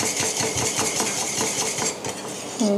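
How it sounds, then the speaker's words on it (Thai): Butter being stirred in a pan to melt for vanilla cream, with steady utensil scraping and clinking against the pan over a constant background hum, ending in a brief louder knock. "ก็คนให้เนยละลาย"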